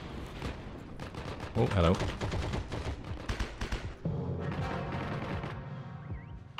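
Rapid gunfire bursts and impacts from the Heroes and Generals video game crackle in quick loud volleys, then lighter distant shots follow. A player talks over the firing.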